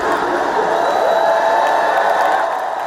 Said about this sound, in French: Une foule en liesse dans un centre sportif de Rabat